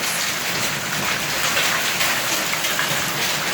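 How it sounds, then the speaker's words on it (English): Hail pelting down during a nighttime hailstorm, a dense steady hiss of countless impacts with faint scattered louder hits, no voices. "It's a hailstorm!"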